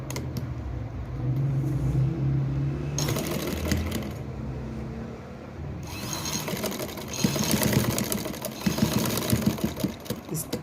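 Sewing machine stitching shiny dress fabric for a frill on an Eid dress, running in several long continuous bursts with brief pauses, close and fairly loud with no talking.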